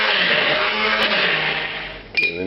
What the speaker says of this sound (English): you're going to put it in a thick blender cup or some other food processor